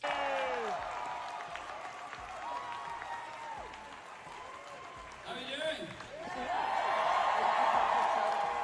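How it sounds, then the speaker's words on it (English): A convention crowd at Fan Expo Canada applauds and cheers in a large hall, with a voice talking over it. The clapping grows louder and fuller toward the end. "The whole crowd erupted."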